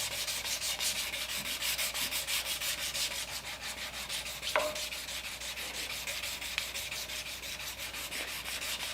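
Sandpaper rubbed over a wooden handle in a quick, regular back-and-forth rhythm, close and fairly quiet, with one brief knock midway and no talking.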